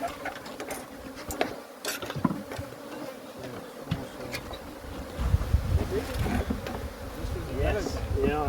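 Honey bees hum around an opened hive set among aloes in the morning sun, a close, continuous buzzing that grows louder and fuller midway, with voices now and then mixed in.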